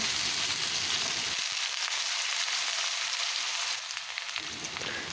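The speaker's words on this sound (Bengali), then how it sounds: "আলুটাকে একটু লাল করে ভেজে নিচ্ছি।" Potatoes frying in hot oil in a kadai, a steady close sizzle and crackle that runs throughout with no voices.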